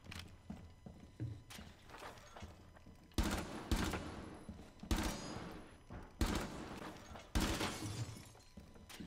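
Rainbow Six gunfire crackles through a fight, with scattered lighter shots early, then several heavy, loud bursts of rapid automatic fire between short pauses.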